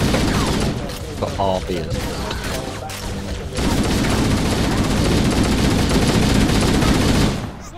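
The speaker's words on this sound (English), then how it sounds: "Oh, I got a machine gun now." Machine gun fire from Halo: Combat Evolved rattles in loud rapid bursts, a dense chattering stream that grows into sustained heavy firing, with a voice speaking over the opening shots.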